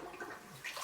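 Water spray starting on an electronic toilet in a Shinjuku, Tokyo apartment, a quiet close hiss and rush of running water at low level, no talking.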